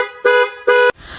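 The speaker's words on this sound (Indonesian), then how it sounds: "Dan ini setelah gue ganti pakai klakson keongnya Hella yang Midnight Black." A Hella Midnight Black snail-type car horn sounds two quick, bright honks close by, each a rich tone of similar length separated by a short gap, then cuts off abruptly.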